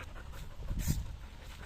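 A border collie panting indoors, close and moderately loud, quick rhythmic breaths over a low background rumble.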